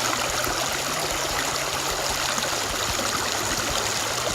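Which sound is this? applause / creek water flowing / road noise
creek water flowing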